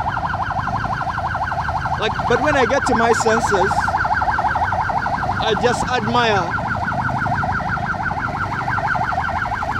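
A wailing ambulance siren sweeps up and down steadily throughout, loud and close, heard from inside the ambulance, with a voice speaking briefly over it midway.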